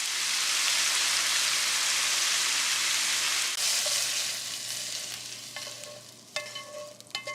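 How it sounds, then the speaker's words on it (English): One pound of sausage browns in a pan with a loud, steady sizzle, fading slightly toward the end as a few sharp clinks of a utensil against the pan ring out. "the first thing we need to do is just brown up our 1 pound of sausage"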